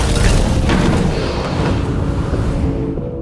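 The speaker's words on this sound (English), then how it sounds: "the lab suddenly exploded" A laboratory explosion rendered as a sound effect: a loud, deep rumbling boom that fills the whole clip and slowly fades toward the end, with no voices.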